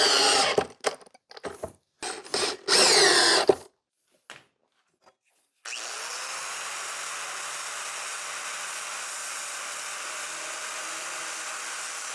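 A power drill drives 1¼-inch screws into a doubled-up wooden board in several short, loud whirring bursts with pauses between them. A steady, fainter machine hum then runs continuously until the end.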